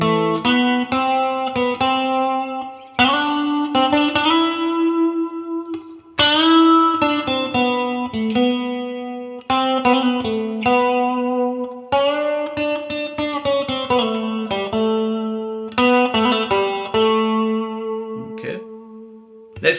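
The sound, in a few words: guitar playing single-note melody of a riff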